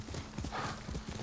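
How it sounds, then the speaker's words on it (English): Horse hooves clip-clop quickly in the video game Ghost of Tsushima, a rapid close rhythmic beat of hoof strikes as the horse runs, loud and continuous with no talk. "I love how horses actually sound like horses now. Like when they run and stuff."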